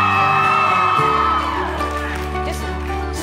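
An audience at a live event screams and whoops loudly, a dense burst of crowd yelling at the start that tapers into sustained cheering and shouting.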